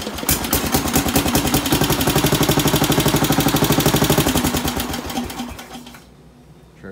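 A Bolens engine is being started with choke and throttle. It fires into a fast, loud mechanical chugging that runs for several seconds, then dies out, leaving near silence.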